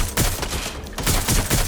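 Bursts of video-game gunfire from Watch Dogs: Legion, several loud volleys at about one-second intervals with a short lull between them, fired in a firefight around a drug vehicle.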